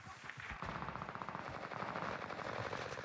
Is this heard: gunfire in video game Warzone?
yes